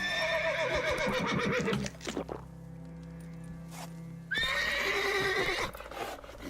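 Roach, Geralt's horse in a Witcher video game, whinnies in two loud, clear neighs separated by a short lull with a low hum underneath.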